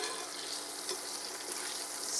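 Pork meatballs sizzle in a hot pan with a steady, close, broadband hiss and crackle that holds evenly throughout, with no voices.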